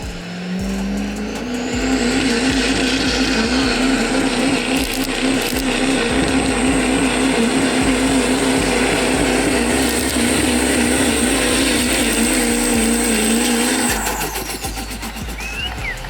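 A diesel truck on a drag dyno at a sled-pull event roars loud and close, its engine rising to a sustained wide-open howl for about twelve seconds before dropping off, with a high whine riding over the rumble.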